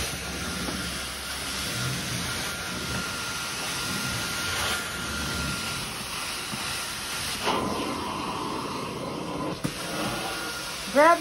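A steam cleaner works over carpets with a steady, continuous hiss and broadband whoosh throughout, fairly loud and close, with a brief shift in tone partway through and a short sharp burst at the very end.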